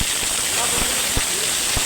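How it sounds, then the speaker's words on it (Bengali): Pointed gourd (potol) sizzles in a hot pan with a steady, close frying hiss and a few soft pops and clinks, with a voice talking. "একটু ভেজে নেব।"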